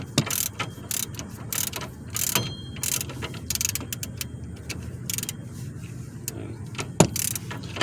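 A hand ratchet tightening an inner tie rod on a 2012 Dodge Charger, with close, rapid bursts of metallic clicking in short uneven runs and an occasional louder clack.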